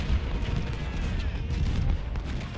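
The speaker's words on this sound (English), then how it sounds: "those howitzer shots are really doing a number on him" Howitzer artillery fire in the Civil War strategy game Ultimate General: Civil War during a siege battle, a continuous rumbling barrage of distant booms with dense, steady low-end roar.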